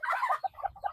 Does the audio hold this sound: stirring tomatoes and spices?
no